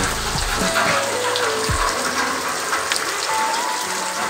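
Heavy rain pours down in a village, a dense steady hiss of falling water on surfaces throughout, with a few low knocks near the start.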